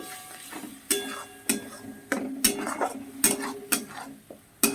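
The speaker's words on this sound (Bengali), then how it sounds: "আর সমানে নাড়তে হবে জলটা যাতে একদম মরে যায়" Cauliflower leaves are stirred in a metal pan with a utensil, producing repeated sharp clinks and scrapes at an uneven rhythm, close and fairly quiet.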